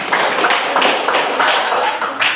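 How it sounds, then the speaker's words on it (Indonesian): Applause from a classroom audience for a student, a dense, steady patter of many hands clapping at once with slight surges, filling the whole moment without talk. "Oke, tepuk tangan untuk Yermina."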